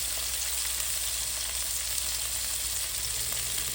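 Butter melts in a tablespoon of vegetable oil in a pan, giving a steady, even sizzle and crackle that runs the whole time without breaks.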